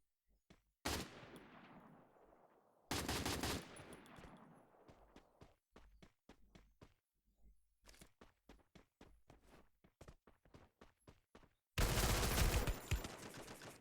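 Gunfire in the Free Fire MAX video game comes in loud clustered volleys and bursts, with quieter single shots and rapid tapping sounds between them, and no talking.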